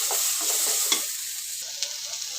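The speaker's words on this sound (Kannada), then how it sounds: "ಇದು ಚೆನ್ನಾಗಿ ಸ್ವಲ್ಪ ಟೊಮೆಟೊದ ನೀರೆಲ್ಲ ಸುಡೋವರೆಗೂ ಹುರಿಬೇಕು" Tomato and onion fry in a pan with a steady, close sizzle while a spoon stirs with occasional light scrapes and taps, no voices heard.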